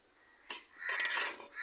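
Stirring Panruti jackfruit panchamirtham in a pot: scraping, clinking strokes of a spoon against metal, a sharp knock followed by a longer busy stretch of stirring, close and moderately loud.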